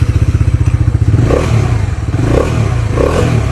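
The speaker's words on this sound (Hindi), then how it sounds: "जो डोमिनार 400 की एग्जॉस्ट साउंड है वो भी मैं आप लोगों को यहाँ पर सुना दूँ" Bajaj Dominar 400 motorcycle exhaust close up, a loud rapid thumping idle that swells into a couple of revs, with no talking.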